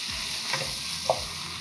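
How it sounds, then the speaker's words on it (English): Beef mince sizzles in a pan with onions as it is stirred, a constant bright frying hiss broken by a couple of soft scraping stirs close by. "I'm going to now start moving my mince around"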